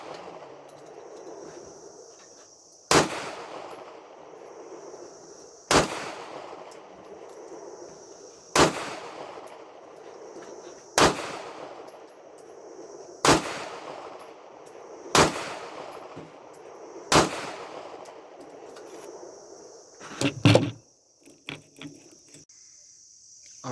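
Gunfire at an outdoor shooting range, heard as seven evenly spaced distant reports about every three seconds, then a brief closer clatter, over a steady background of insect chirping.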